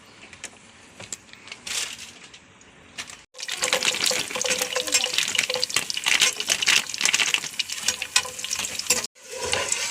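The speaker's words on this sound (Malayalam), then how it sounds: "വണ്ടിപ്പരിപ്പ് മുന്തിരി വറുത്തെടുക്കാം" Cashew nuts and raisins frying in oil while a Thalassery dum biryani is being made. There is a faint sizzle at first, then a louder, dense close crackle with a short quiet break near the end.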